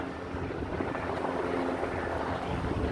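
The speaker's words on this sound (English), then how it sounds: "Oh shoot, we got a chopper." A medevac helicopter flies overhead, its steady rotor thrum filling the air as a continuous, moderately loud drone without pause.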